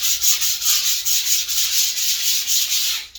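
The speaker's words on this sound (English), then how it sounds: "We're going to wet sand it to get any high spots on here" Wet sanding a surface coated with spar urethane, with a steady, close, rhythmic rubbing of back-and-forth strokes repeating about every quarter second, alone.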